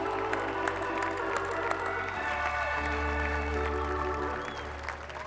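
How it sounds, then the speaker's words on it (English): A huge crowd cheers and applauds at the Chicago Cubs World Series championship rally, a broad, continuous roar of clapping and cheering spread across open space, with amplified music and crowd noise blending underneath. "So one round of applause for those guys who really made this happen."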